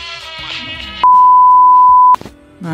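A steady electronic alert tone from a phone's incoming call, one continuous beep of about a second, loud and clear, rising over background sound in a workshop where a Mobil X Bass M5380 car amplifier power board is being repaired.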